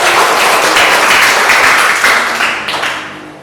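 Classroom applause for a group's work, a dense burst of many hands clapping together that stays loud and then tapers off toward the end, with no talk.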